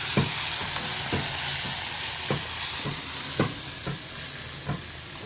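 Ginger garlic paste frying in hot oil with a steady sizzle, while a spoon stirs the pan in periodic scrapes and knocks roughly every half second, close up with no talk.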